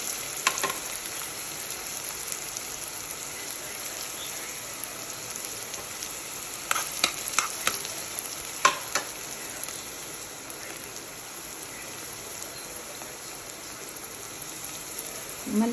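Onions fry in a pan for mutton curry, a steady close sizzle and crackle running throughout with a few sharper pops and spoon scrapes near the middle.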